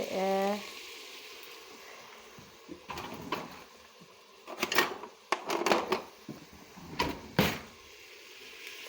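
Chopped garlic and garlic paste fry in a pan with a soft, steady sizzle, broken by scattered sharp clinks and scrapes of utensils and cookware.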